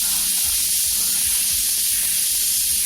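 An airbrush sprays paint in a steady, loud, close hiss of air that holds unbroken for the whole stretch, with no voices over it.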